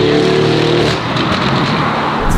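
Widebody Lamborghini Urus with a custom race exhaust and downpipe, tuned to about 780 horsepower, roaring loudly in sport mode with a deep rumbling drone and a rising rev, no talk over it.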